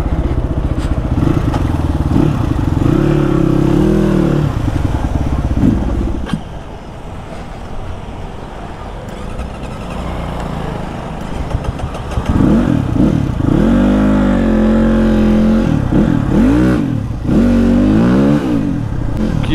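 A new dirt bike engine revs in loud, rising and falling bursts, with a steady rough idle between them and a quieter stretch in the middle.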